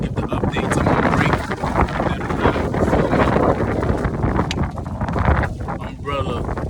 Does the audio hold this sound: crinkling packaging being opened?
no